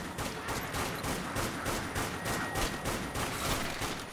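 Rapid continuous gunfire from the Dead Nation zombie shooter game, a dense rattling stream of shots at an even fast rhythm, loud and unbroken from start to finish.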